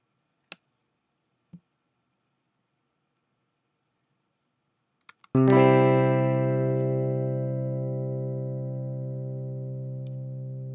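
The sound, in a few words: flange harp synthesizer preset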